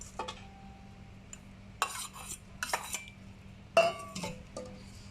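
Metal utensil clinking and scraping against a dish while mixing minced pork larb (laab moo) with liver, in several short bursts of clatter separated by quiet pauses, close by, with no talking.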